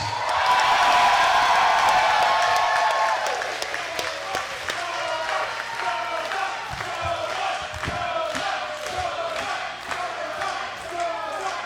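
A wrestling event crowd applauds and cheers after a ceremonial opening dance, starting as a loud dense roar that settles into sustained clapping with scattered whoops, while a voice talks over part of it.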